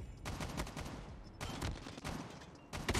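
Rapid automatic bursts from a BK57 rifle in Call of Duty Mobile, three or four quick volleys of gunfire separated by short gaps, sharp and close at moderate level.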